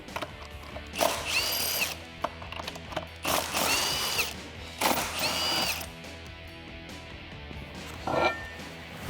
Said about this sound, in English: Next, we can remove our lug nuts.